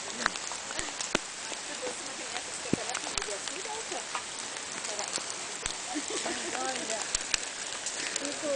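Steady rain falls outdoors during a group walk, a dense patter of drops hitting surfaces with occasional sharper splats, while people talk over it.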